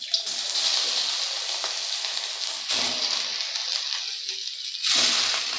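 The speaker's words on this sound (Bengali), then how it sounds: "এবার বাঁধাকপিটাকে একটু নেড়ে চেড়ে ভেজে নেব" Boiled cabbage frying in hot oil with whole cumin, a loud hissing sizzle that swells in bursts as it is stirred and tossed, with no voices over it.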